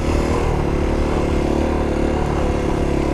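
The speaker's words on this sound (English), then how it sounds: "you can listen to the motor while you're wheeling. You can hear the RPMs drop" A motorcycle engine drones continuously during a second-gear wheelie, its revs easing downward, heard close and steady under wind rush.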